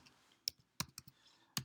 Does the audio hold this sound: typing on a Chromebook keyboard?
yes